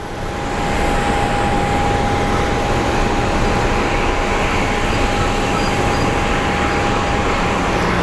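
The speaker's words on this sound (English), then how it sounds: "We have our JFK flight getting onto the tarmac right now" A Boeing 777 airliner bound for JFK taxis onto the tarmac at Phoenix Sky Harbor airport, a steady, loud broadband engine roar with a constant high whine held throughout, no talking.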